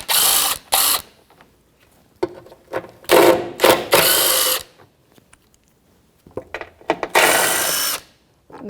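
Rapid whirring bursts of a power ratchet or impact driver with a 10mm socket spin out the rear control arm mounting bolts on a 2007-2017 Jeep Patriot 2.4L, several loud close runs separated by short pauses.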